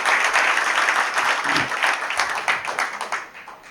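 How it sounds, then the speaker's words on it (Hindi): Audience applause at a Hindi poetry recital (kavi sammelan), a dense, steady crowd clapping heard close and loud, thinning and fading slightly toward the end. "एक बार सारे लोग तालियां बजा दीजिए"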